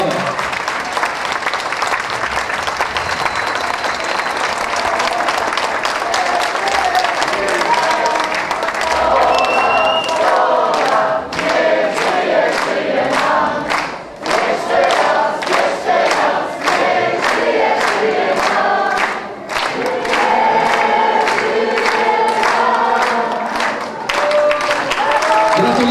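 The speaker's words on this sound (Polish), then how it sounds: "Brawa, brawa." Sustained applause and cheering from an audience at a dance show, loud and dense, with rhythmic clapping building through the middle and continuing to the end.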